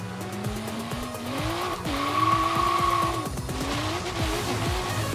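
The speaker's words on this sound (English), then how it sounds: "I feel like that is a little too much wheel spin off the start" A drag-tuned Toyota Supra in Forza Horizon 3 launches with heavy wheel spin. Loud, continuous tyre squeal rides over a revving engine that shifts up repeatedly, heard close and without talk.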